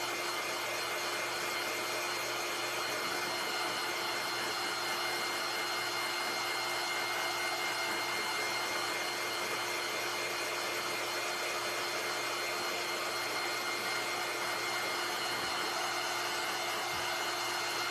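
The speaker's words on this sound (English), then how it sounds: "This is a nice heat tool." A handheld heat tool runs steadily during a primitive triangle Santa Christmas craft, giving a continuous, even blowing hiss that stays at a constant level throughout with no pauses.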